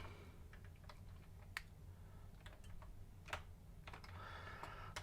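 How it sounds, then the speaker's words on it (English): Quiet, sparse key presses on a Commodore 64 keyboard, heard as irregular clicks and taps spread across the span over a low hum, with no talking. "Sorry, I'm fiddling with this keyboard. I'm not too used with the Commodore keyboard."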